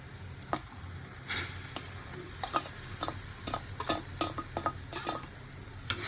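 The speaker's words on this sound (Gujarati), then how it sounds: "દાળ આપણી ગરમ થઈ ગઈ એટલે બચેલા ભાત હોય એ થોડાક એડ કરી દઈશું" Leftover rice being stirred into hot sweet dal in a pot: irregular spoon clinks and scrapes against the metal over a soft bubbling sizzle, close and fairly quiet.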